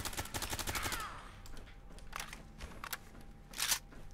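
VSS rifle from a 9x39 weapon mod for the Fallout 4 video game fires a fast burst, then a few scattered shots and a short final burst, loud and close.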